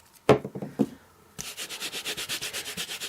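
A rubber craft stamp is scrubbed back and forth on a misted Stampin' Scrub pad with carpet-like fibres, making a few close taps followed by a steady series of rhythmic brushing rubs.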